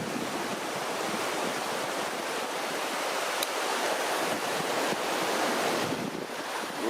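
Mountain torrent of the Gave d'Estaubé in the Hautes-Pyrénées, near Gavarnie-Gèdre, rushing as a steady, dense broadband roar that stays loud and constant throughout, with some wind mixed in.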